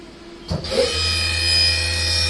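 A Haas VF-2SS vertical machining center's spindle, new in 2019, spins up toward 5,000 RPM. After a brief clunk, a smooth rising whine settles into a steady high hum at close range, with no speech.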